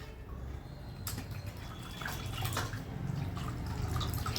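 A cloth strip is dipped into a basin of water, giving close, soft sloshing and trickling drips that build slightly over a few seconds with no talking.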